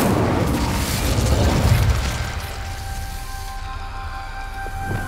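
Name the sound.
Incendio fire spell cast, from video game Hogwarts Legacy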